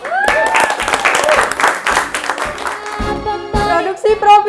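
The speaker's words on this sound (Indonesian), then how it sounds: "Tepuk tangan buat kita semua." Enthusiastic applause from a crowd on a multimedia broadcasting short-film set in Indonesia, dense clapping with whoops and raised voices mixed in, loud and close throughout.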